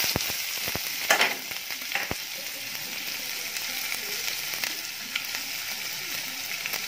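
Chopped onion, asafoetida and cumin sizzle in hot oil in a pan for a bottle gourd curry, a dense close crackle with sharp utensil clinks near the start, then steady frying alone.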